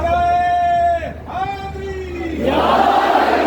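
At a religious gathering, one amplified voice calls out, then a large crowd answers together with a loud, sustained roar of a religious slogan.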